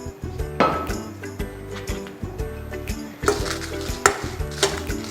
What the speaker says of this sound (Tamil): எண்ணெய் ஸ்லைட்டாக சூடானதும் நம்ம எடுத்து வச்சிருக்கிற 12லேருந்து 15 காஞ்ச மிளகாவை சேர்த்துக்கலாம்.